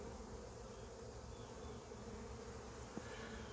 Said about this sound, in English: we got a pretty good sized swarm here